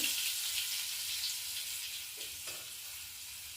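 Butter sizzling in hot white oil in a pan, a steady close hiss and crackle that carries on throughout with no one speaking.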